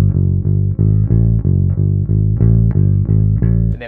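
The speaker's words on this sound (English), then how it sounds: "we get this more walking bass line." Bass guitar walking line in a blues style, a steady run of about a dozen evenly spaced notes, loud and close with no other sounds.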